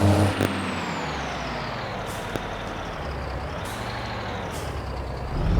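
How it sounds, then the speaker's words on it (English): A long, steady hiss of truck air brakes venting in the video game Farming Simulator 22, loud and continuous, with a faint rising whine behind it and a few brief clicks. "we're just gonna slam these brakes here. Just listen to this though"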